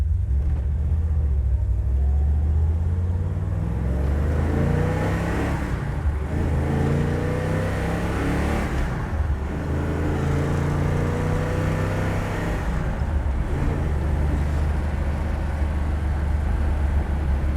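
A 1970 Dodge Dart engine revs up and drops back repeatedly as it shifts through gears, a continuous loud drone with rising and falling pitch.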